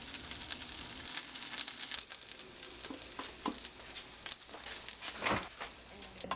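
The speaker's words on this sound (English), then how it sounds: "So I'm pan searing my mock loaf." A vegan mock brisket loaf sears in a hot pan, giving a steady, close sizzle and frying crackle with scattered pops and light scraping bursts throughout.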